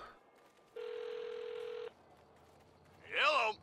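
A burner phone rings in the Saints Row video game, one steady electronic ring tone holding for about a second, then a short burst of voice-like game sound follows.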